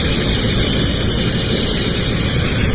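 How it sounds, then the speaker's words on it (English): A camping stove heating water at a motorcycle tent campsite gives off a loud, steady, jet-like roar close by, unbroken for the whole stretch with no talking. "Check out the stove. It's got this crazy cool sound of like a jet"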